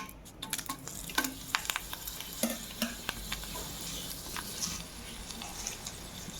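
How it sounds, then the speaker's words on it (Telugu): Tempering spices, including dry red chillies, sizzle in hot oil while making tomato dal, with a steady close hiss broken by scraping stirs and small clinks of a utensil. "తాలింపు దినుసులు వేసుకున్నాము"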